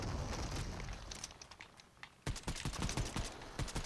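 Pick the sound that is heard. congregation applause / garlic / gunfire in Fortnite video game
gunfire in Fortnite video game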